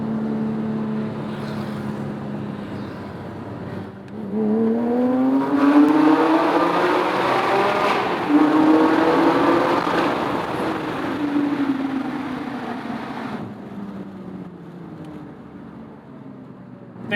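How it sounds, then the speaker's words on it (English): A 2007 Porsche 911 GT3 (997.1) flat-six engine revs up in a long, loud, sustained howl, rising and falling in pitch across repeated climbs, with no talking over it. "let's hear that flat six sing one more time"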